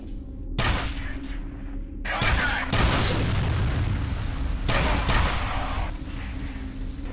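A big gun fires in the shooter game F.E.A.R., with several loud, booming shots and bursts going off in quick succession, each trailing into a rumbling echo of debris and ambience.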